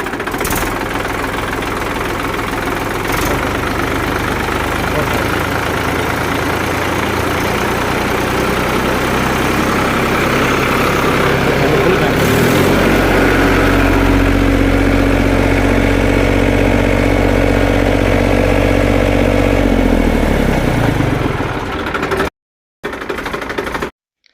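A Massey Ferguson 1035 DI tractor diesel engine runs loud and close, climbing in revs midway into a sustained high, steady roar before dropping abruptly at the end.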